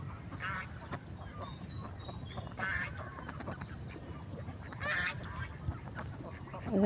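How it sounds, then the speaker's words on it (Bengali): A flock of ducks walks about beside a village river, giving faint, scattered honking quacks in short bursts over a low background hum. "হাঁসগুলা কত সুন্দরভাবে মনের কুঠিতে বৈশা আছে হাঁটতেছে"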